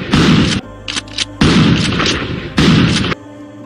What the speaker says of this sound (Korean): 한밤중에 울려 퍼진 총성 소리.